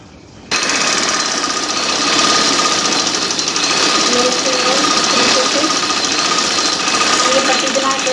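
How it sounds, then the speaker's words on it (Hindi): A sewing machine stitches along a folded fabric strip for a trouser, a loud steady rapid mechanical whir and chatter that starts suddenly and keeps going close up, with no speech over it. "अब मैं एक पैर की इस पर सिलाई लगाऊंगी तो ये पट्टी बन के हम सीधी कर लेंगे इसे"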